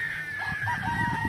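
A Yellow Legged Hatch broodcock rooster used for breeding battle-cross gamefowl crows nearby, a single strained crow over farmyard background noise and low rustling.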